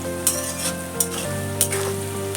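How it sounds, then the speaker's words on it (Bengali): Chopped small onions fried until reddish crackle in a pan, with a few sharp scraping strokes of a spoon stirring them over the steady sizzle. "লাল লাল করে ভেজে নিয়েছি পেঁয়াজটা।"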